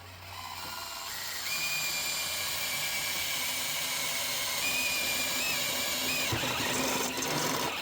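A drill bores steadily into the oil pan of a Honda. A continuous high mechanical whine rises in pitch after the first second, then holds up close with slight wavering until the end.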